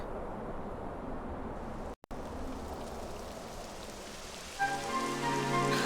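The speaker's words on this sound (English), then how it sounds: "It would have to go and start raining, wouldn't it?" Steady rain from Dragon Quest XI S patters down in a constant hiss, broken by a brief cut of silence, then a soft tonal music bed joins near the end.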